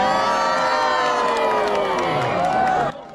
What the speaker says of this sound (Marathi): लोकांनी ती पिल्लं पाहून अक्षरशः जल्लोष केला.